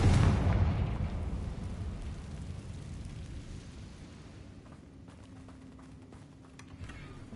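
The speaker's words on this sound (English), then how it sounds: "Confringo." A Confringo spell explosion in the video game Hogwarts Legacy bursts with a loud, deep boom at the start, then rumbles and fades over several seconds, with small crackles near the end.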